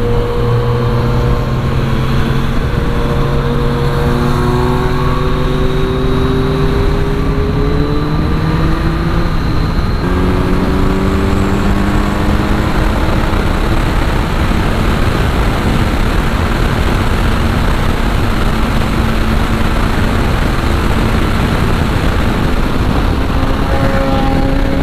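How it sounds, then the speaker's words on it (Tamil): A Kawasaki Z900 motorcycle with a loud Ar aftermarket exhaust, ridden in the rain, gives a loud, continuous, close engine drone whose pitch rises through the gears, dips at a shift, then settles into steady wind and road roar. "இந்த ஒரு Z900 போது பாருங்க, one of the craziest exhaust."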